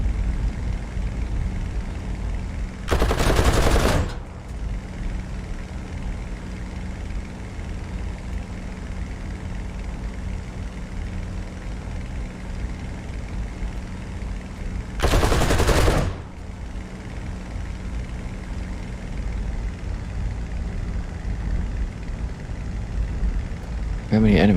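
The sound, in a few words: machine gun fire in a flight simulator video game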